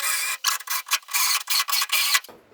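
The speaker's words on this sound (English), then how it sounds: "So it's just an ordinary bit that I've just put on the grinder straight in." An angle grinder fitted with an ordinary bit cleans out plug weld holes and paint on a Ford Escort Mk1 body panel, giving a loud, harsh rasping whir in short bursts separated by brief pauses.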